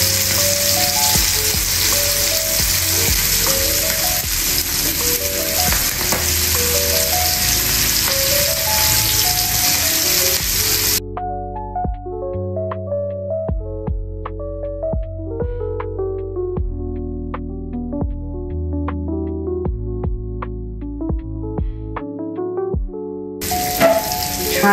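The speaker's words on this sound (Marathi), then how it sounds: "आता आपण ही फ्राय करून घेऊया दुसऱ्या बाजूने।" Mandeli fish frying in a pan on its second side, a steady crackling sizzle that runs throughout, with a pause in the hiss partway through and soft background music underneath.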